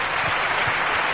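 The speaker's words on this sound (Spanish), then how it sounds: "Un aplauso para esos que" An audience applauds in a hall at a Spanish-language success seminar, a dense and steady wash of clapping that holds evenly throughout at close range, without any voices.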